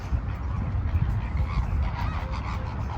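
Flamingo flock calling with dense honking, goose-like cries outdoors by the viewing deck at Ras Al Khor Wildlife Sanctuary in Dubai, a steady, continuous chorus with faint voices in the background.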